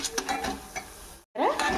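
Curry leaves stir-frying with chili powder in a pan, a steady crackling sizzle with scraping stirs near the start, a brief gap of silence, then the frying resumes loud and close.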